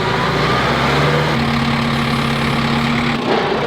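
A tractor engine running close by: a loud, steady low rumbling idle with a rough throb and a brief dip near the end, with no voices.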